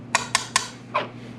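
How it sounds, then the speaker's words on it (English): Garlic being dumped into a cooking pan with onion gives four sharp metallic clinks, three quick evenly spaced ones and a softer fourth, close up with a faint hum beneath. "I'm gonna dump all my garlic in."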